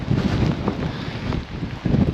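Strong gusting wind roars and buffets the microphone on an exposed Faroe Islands hillside in lashing rain, a loud, continuous rumbling rush that swells and dips.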